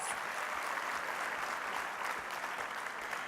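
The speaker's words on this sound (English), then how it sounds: "Let's give them a round of applause." An audience claps at the closing session of a conference. The applause is a steady, even roar that lasts the whole stretch without breaks.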